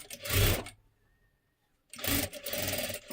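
A sewing machine stitches along the edge of a jacket in two short runs separated by over a second of near silence, the motor whirring steadily each time.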